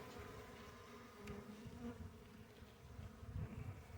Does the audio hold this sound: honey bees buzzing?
yes